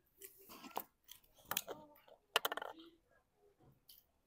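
Crispy Shanghai rolls filled with rice are bitten and chewed close up, giving irregular crunchy bursts across several seconds with brief pauses between bites.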